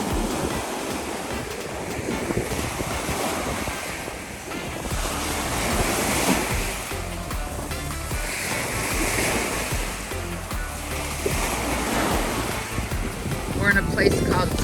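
Ocean waves roll and crash onto a sunny beach south of Fort Lauderdale, Florida, in a constant loud surf roar that swells and ebbs, with heavy wind rumbling across the microphone.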